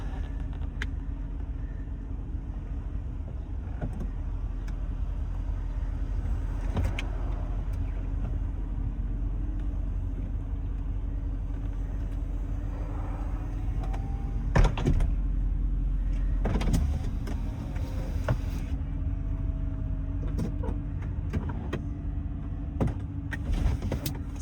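A steady electric motor whirs as the convertible roof of a Mercedes-Benz SL 550 Roadster moves into place, with a couple of soft mechanical clunks near the end, over a low idling engine hum.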